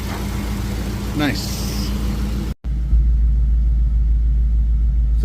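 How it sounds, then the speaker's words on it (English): A Nissan S15 idles with a steady, deep low rumble that stays even throughout, with a short spoken remark early on. "So it's idling pretty good."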